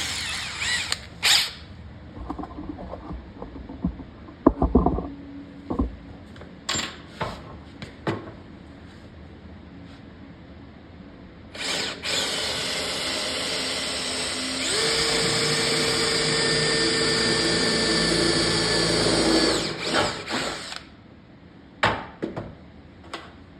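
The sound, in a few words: power drill drilling bolt holes in a shop countertop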